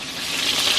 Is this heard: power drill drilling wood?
no